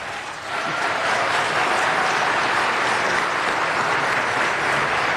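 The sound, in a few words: audience applause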